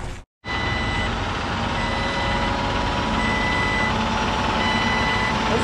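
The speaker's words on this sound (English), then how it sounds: "Nicest sounding backup of one I think I've ever heard." Truck backup alarm sounding at a retaining wall job site, a loud continuous near beeping that carries on without a break after a brief silent gap at the start.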